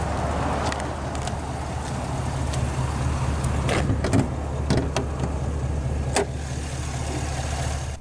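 A 2023 Chevrolet Silverado 1500 RST Z71 crew cab's naturally aspirated Ecotec 3 6.2-liter L87 pushrod V8 idles steadily with a low, even rumble, while a few faint clicks and knocks sound over it.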